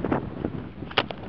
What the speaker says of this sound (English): Fucking windy, man.